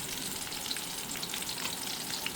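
Pork stir-frying in a hot pan for basil fried pork with egg, a steady dense sizzle with scattered crackles and pops, close and continuous, with no voices.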